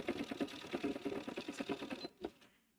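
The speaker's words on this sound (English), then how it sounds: "this is a Bernina, so all we have to do is hit the go button" A Bernina sewing machine runs in a quick, steady burst of rattling needle strokes that slow and stop after about two seconds, close up and moderately quiet.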